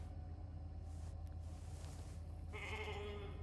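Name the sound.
sheep bleating in the video game The Alters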